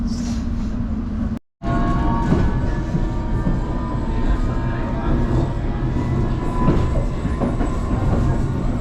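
A London Underground Metropolitan line train rumbles steadily on the way to Chesham, with a loud, close, continuous roar of wheels and carriage and a faint rhythmic clatter.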